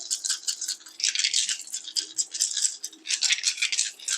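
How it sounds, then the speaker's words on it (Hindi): Small hard objects rattle and clatter in rapid bursts, shaken in a container with brief pauses between rounds. "डाइस की आवाज़ पे आपको फोकस करना है"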